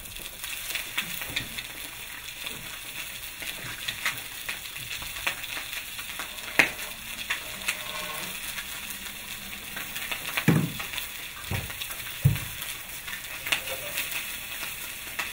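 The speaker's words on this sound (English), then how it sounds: "When you're sauteing, you just want to do a very hot pan, and the meat is dry so it's not sticking." Meat sautés in olive oil in a very hot pan with a steady close sizzle, broken by a few soft thumps and scrapes as it is moved around.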